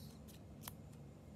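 Scissors cut a straw in half with a single quiet snip in a hushed room.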